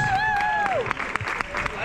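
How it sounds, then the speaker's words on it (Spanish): Applause and cheering for marathon category winners at the Roda 2023 race, a steady crowd clapping throughout, with a whistle or announcer tone at the start and scattered sharp claps standing out. "Este aplauso es para vosotros, chicos."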